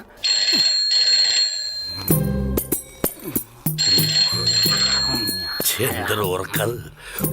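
A telephone rings in bursts, a repeated electronic trill, with people talking and music-like tones between and under the rings, in a Malayalam film scene.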